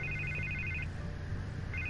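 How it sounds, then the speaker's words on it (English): A phone ringing in Batman: The Telltale Series game, a steady electronic trill that rings for nearly a second, pauses, then starts again over a constant low hum, no voices. "I can't get the phone to stop ringing."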